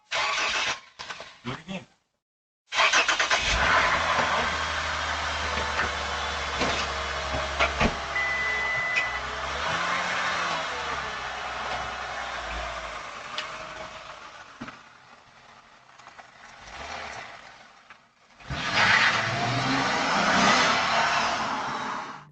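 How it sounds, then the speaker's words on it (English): A stolen Lexus in Stockton, California starts up and its engine runs at a steady idle before pulling away, after a brief quiet pause, with voices speaking over the engine noise. "They managed to drive off with the car in just a few seconds"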